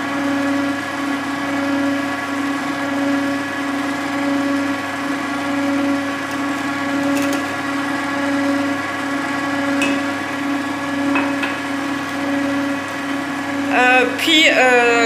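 An electric mixer blends oil into birthday cake batter, a steady close motor whine running the whole time, with a few clatters and scraping at the end.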